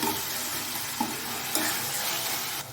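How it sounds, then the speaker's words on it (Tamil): Tomatoes sautéing with ginger garlic paste for chicken biryani, a loud continuous sizzle with a few light scrapes of stirring. "தக்காளி சேர்த்து நல்லா வதக்கி விடுங்க"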